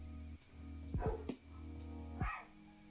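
Indoor dogs let out a few sharp, fairly faint barks, one pair close together and a single bark later, over a low steady hum.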